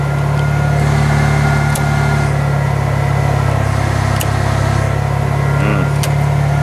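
A Ford car engine idles steadily and loud up close, a constant low hum with a faint whine above it and a few tiny clicks, running unbroken throughout.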